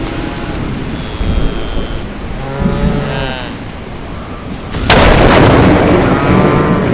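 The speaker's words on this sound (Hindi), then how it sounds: "एक कड़कती हुई बिजली गिरती है" Thunderstorm in an animated horror short, with heavy rain and rumbling wind building to a sudden loud crash of a lightning strike that keeps roaring afterward; low moaning tones are mixed in.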